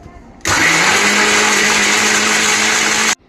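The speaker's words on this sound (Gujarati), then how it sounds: "આ બધું મિક્સ કરીને આપણે મિક્સર ગ્રાઇન્ડમાં એને ક્રશ કરીશું" A mixer grinder crushes ice cubes with lemon juice and ground black pepper, a loud, steady whirring grind that starts abruptly, runs for nearly three seconds on its own, then cuts off.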